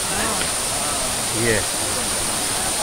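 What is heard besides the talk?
Doodh Wali waterfall near Palghar, water falling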